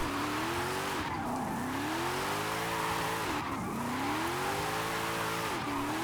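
In Forza Horizon 5, a car drifts with sim steering, its engine and squealing tires rising and falling in repeated sweeping arcs roughly every two seconds, loud and unbroken across the whole stretch.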